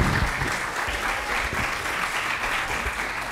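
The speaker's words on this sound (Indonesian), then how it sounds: "Kita beri tepuk tangan." An audience in a lecture hall applauds at the end of an academic presentation on internationalizing Indonesian language and literature, a sustained, even wash of many hands clapping at moderate loudness with no talk over it.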